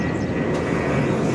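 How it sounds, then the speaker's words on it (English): American Airlines airliner touching down at DFW airport, a loud continuous jet engine roar heard steadily from fairly close for a brief moment. "American Flight 9 from Albuquerque, New Mexico is touching down"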